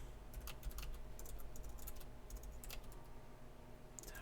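Typing on a computer keyboard at a desk while drafting notes for a tabletop RPG adventure, irregular bursts of quick, close key clacks over a low steady hum, with pauses between flurries.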